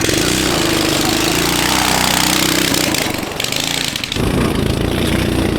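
A cheap 18HP Temu engine on a go kart runs loud and close with a rough, steady rattling drone, with a brief dip in the middle before it revs on again.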